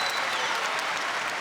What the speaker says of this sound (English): now they applaud because there's a stall call on Lewallen